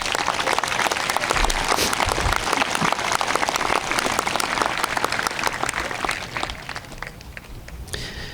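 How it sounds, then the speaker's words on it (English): A graduation ceremony audience gives sustained, dense applause from many hands, filling the whole stretch and thinning slightly toward the end. "That deserves a huge round of applause."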